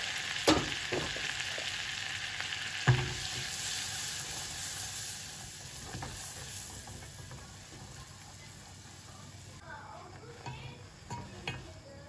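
Flour toasting in melted butter in a saucepan gives a steady soft sizzle with a few stirring knocks, fairly close, with quiet hiss throughout and faint voices underneath.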